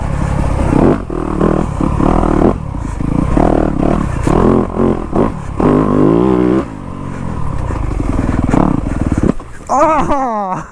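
A Yamaha YZ250F dirt bike rides through woods, its engine revving up and down in loud close bursts as it shifts and accelerates, with clattering over the trail and a rider speaking at times.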